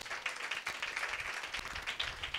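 A church congregation claps during a sermon, a steady, fairly soft patter of many hands spread evenly across the moment with no voices standing out.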